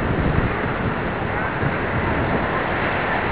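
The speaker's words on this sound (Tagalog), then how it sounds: "Lakas ng hangin ah." Strong wind roars steadily into the microphone throughout, a constant loud buffeting rush with no break.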